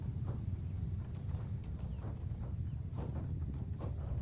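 Cavalry horses running across a battlefield in Mount & Blade II: Bannerlord, a steady rumble of galloping hooves with scattered clip-clop hits over a dense low-end wash of battle ambience.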